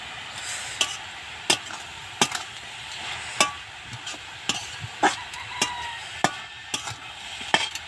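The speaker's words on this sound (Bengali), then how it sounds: "এবার শাকটাকে আমি ভালো করে একটু নেড়ে চেড়ে নেব" Kolmi greens being stirred in a pan: sharp, irregular scrapes and knocks of a spatula roughly every half second over a soft background sizzle, close and moderately loud, with no talking.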